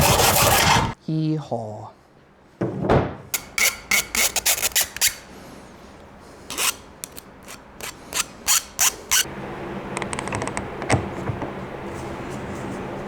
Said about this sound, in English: Just gonna have to file that burr off the end.